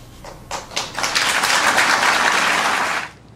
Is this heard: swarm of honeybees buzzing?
no